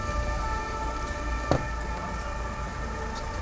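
Rain falls steadily at night outside the Palais de Justice, a constant hiss with a low rumble and faint tonal hum beneath, broken once by a single sharp knock.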